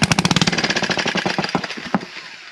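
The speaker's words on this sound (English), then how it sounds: "That's the first time I heard this motor fire." A small engine, freshly given a valve job, is cranked by a 1980s Black & Decker Professional drill and fires in a fast, loud run of chugging pulses that slow and fade within about two seconds.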